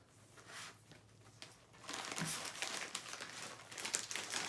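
Bundles of chip bags handled while tape goes on at the bottom for a snack bouquet; soft crinkling builds into louder, continuous rustling and crumpling of plastic packets, close by.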